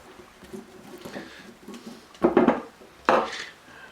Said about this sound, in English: Just going to mix this all up.